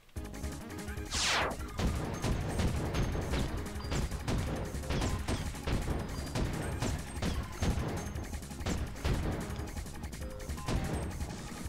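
Repeated gunshots from the light-gun shooting game Point Blank, played on very hard, firing in quick irregular bursts over a dense layer of game music and effects, loud and close throughout.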